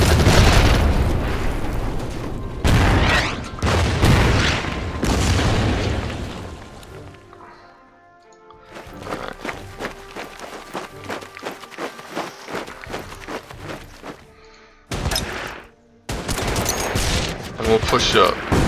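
Artillery barrages and gunfire from the war game Order of Battle Pacific, with dense bursts of shots and blasts that cut in and out, easing into scattered crackling fire midway before heavy bursts return.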